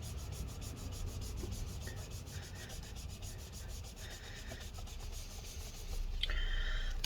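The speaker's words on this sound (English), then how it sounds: "we're just gonna go along and try and wipe off the residue here." A paper towel rubs and scrubs sticky residue off the chassis of an HP Envy x360 13 convertible laptop, a soft continuous close-up scraping that grows a little louder near the end.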